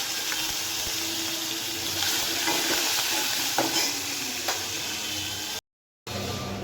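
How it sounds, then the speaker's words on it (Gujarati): Steady crackling sizzle of mustard seeds, cumin and asafoetida frying in hot oil, with occasional stirring clinks, continuous and close, cut briefly by a short silent gap near the end. "આપણે તેલ મૂકી દીધું છે એમાં નાખશું રાઈ જીરું હિંગ"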